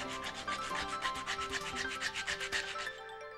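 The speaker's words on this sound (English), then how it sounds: "Sand the edges smooth and then bevel the ends." Sanding the edges of a wooden part for an I-beam spar, steady rhythmic rasping strokes close up, repeating about four times a second and trailing off at the end, with no voices.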